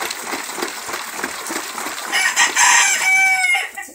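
Desi chickens cluck and murmur softly, then a rooster lets out a loud, close crow in the second half.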